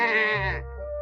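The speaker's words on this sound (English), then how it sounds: "one sheep bleated to another in the field alongside" A single sheep bleats in a field, a clear, wavering call close by that fades out, leaving a low background rumble.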